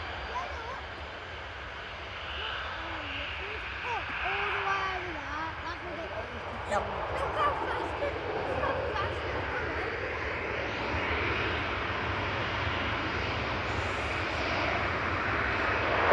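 A Ryanair Boeing 737-800 arriving from Dublin lands at Manchester Airport, heard as a steady, distant jet roar under outdoor wind noise that swells slightly over the span.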